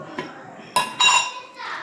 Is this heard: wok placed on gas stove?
yes